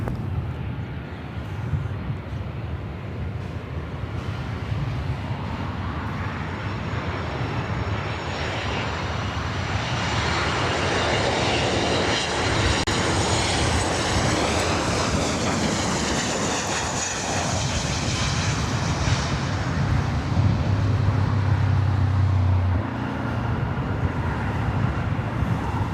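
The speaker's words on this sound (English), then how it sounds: "Got that Delta A321neo heading over here now." A Delta Airbus A321neo jet approaching LAX passes as a heavy, swelling engine roar with a sweeping whine that peaks in the middle and then rumbles on, loud and near, with no speech.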